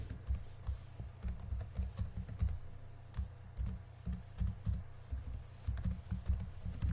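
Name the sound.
typing an email address on computer keyboard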